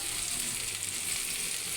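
Spices with ginger and garlic paste frying for a crab curry, a dense continuous sizzle with a faint hint of stirring, brief and steady, no voices.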